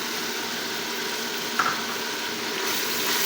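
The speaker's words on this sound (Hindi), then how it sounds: "इन सब चीज़ों को फ्राई करने के साथ इसमें मेथी सबसे पहले हम डालेंगे।" Fenugreek leaves fry with spices in a pan for methi gosht, a steady close sizzle running throughout with one brief clink midway and no voices.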